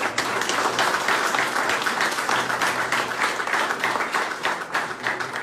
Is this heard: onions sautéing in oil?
no